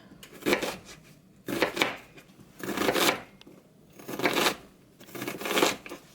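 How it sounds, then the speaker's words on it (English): Knife slicing an onion on a cutting board, producing five evenly spaced bursts of crisp chopping strokes in a regular rhythm, close and moderately loud. "I try to kind of slice it the way that Gordon Ramsay showed how to, where you don't cut all the way through the end"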